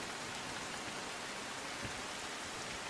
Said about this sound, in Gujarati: વહેલી સવારથી જ સુરતમાં પડી રહ્યો છે વરસાદ